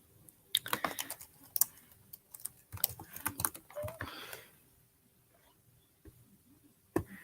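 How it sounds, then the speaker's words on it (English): Typing a text message on a keyboard, with quick irregular bursts of close key clicks, then a quiet pause and one last tap. "I'm not gonna show you guys what I'm typing"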